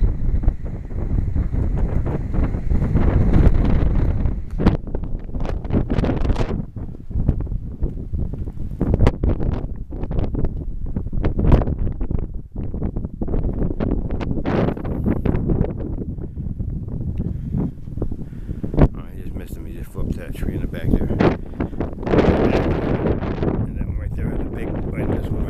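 Strong gusty wind outdoors ahead of a storm, loud rumbling buffeting against the microphone in uneven surges, with people talking intermittently beneath it.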